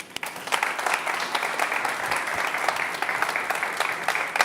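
Studio audience applauding at a Christmas television show, a continuous wash of clapping for a few seconds with scattered voices underneath.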